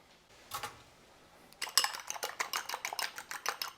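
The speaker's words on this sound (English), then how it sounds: "And we'll give this a little beat up." A fork whisks an egg mixture with Parmesan in a bowl: one quick clink, a pause, then a fast run of rapid rhythmic metallic taps against the bowl, close and fairly quiet.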